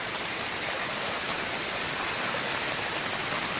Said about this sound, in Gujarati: તમે જોઈ શકો છો ધોધમાર વરસાદ ચાલુ છે